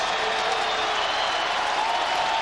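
A stadium crowd roars steadily at a college football game between Miami and Tennessee, a dense, unbroken wash of cheering and noise from the stands, without a break for the full stretch.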